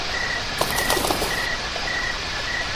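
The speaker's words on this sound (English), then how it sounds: "you can add in the buzzing of bees, the flapping of wings," Meadow soundscape from an Ecotones ASM1002 sound and sleep machine, with a brief flurry of flapping wings over a steady broadband hiss and faint repeated chirps.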